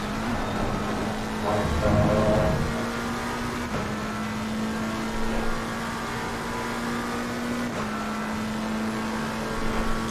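Race car engine in a racing video game at Monza, a steady mid-distance drone with brief revs and shifts, running alone without talk.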